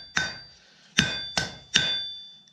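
Blacksmith's hammer striking hot metal to smooth out hammer marks: four sharp ringing metallic blows, each decaying with a bell-like tone, spaced roughly evenly and close by, with no talk.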